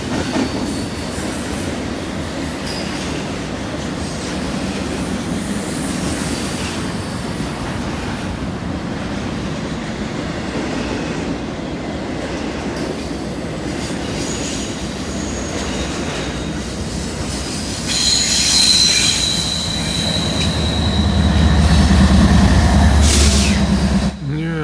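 A long BNSF freight train of grain cars and double-stack well cars rolls steadily past close by at Carkeek Park, a dense continuous rumble and clatter, with high squealing wheels rising toward the end.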